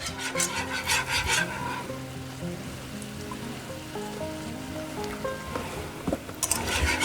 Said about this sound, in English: just coat the bottom and then whisk it all in so it's nice and smooth